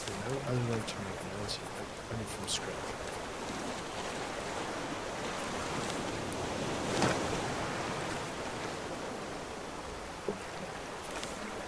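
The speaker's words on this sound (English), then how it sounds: "Oh, it's raining" Steady rain in the video game Raft hisses in a broad, even wash throughout, with a few faint taps and a brief soft splash; no voices are heard.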